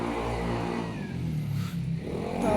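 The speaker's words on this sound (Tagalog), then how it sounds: "ang ingay ng motor." Motorcycle engine revs loudly close by, its pitch climbing and falling before surging again at the end, with no voices over it.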